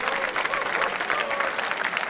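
Vigorous audience applause at a quiz show, dense continuous clapping filling the whole moment at strong volume.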